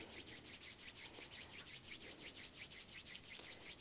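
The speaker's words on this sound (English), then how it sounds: "Rub the palms of the hands" Palms of the hands rub briskly together in a steady back-and-forth rhythm, a soft close-up swishing friction repeating about four times per second in a quiet room.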